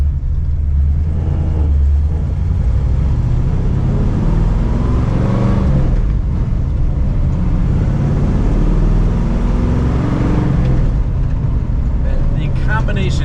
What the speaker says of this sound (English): You take an FE big block, put a set of long tubes on it, a nice free flowing exhaust. This thing sounds really good.